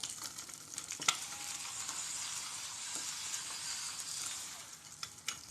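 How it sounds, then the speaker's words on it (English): Sausage gravy is stirred in a pan while it fries with a soft, continuous sizzle, and a few light clinks of the utensil sound against the metal. "We're going to stir that up"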